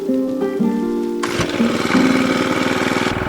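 A gas-powered steel fence post driver's small engine is pulled over and fires up, a brief uneven cranking giving way to a loud, steady buzzing idle that runs close and alone.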